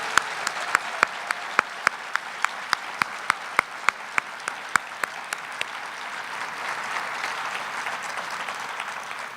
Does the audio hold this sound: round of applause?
yes